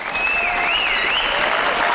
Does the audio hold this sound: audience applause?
yes